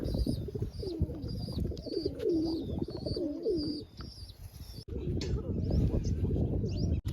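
Pigeons bathing and cooing: soft repeated coos close by alongside splashing and wing flutters, with a voice speaking over them much of the time.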